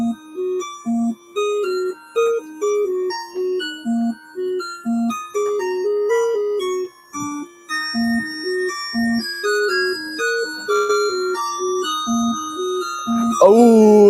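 A chiptune track written in MML plays back with square-wave beeps in a bouncy, stepping melody over a simple bass line, clean and fairly quiet, until it glitches into a sliding tone at the very end.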